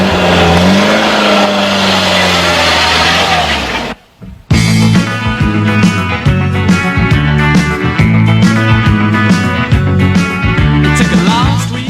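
Peugeot 205 CTI 1.6 cabriolet with the 115 hp 1600 engine, loud steady running that cuts out briefly, then accelerates through repeated revs and gear changes, heard up close with no talk.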